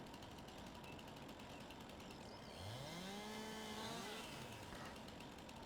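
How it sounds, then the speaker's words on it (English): Chainsaw in the Farming Simulator 19 video game, revving up midway and buzzing steadily before dropping back, heard faintly over a constant ambient background hum with no voices. "Bring out the chainsaw, crouch down."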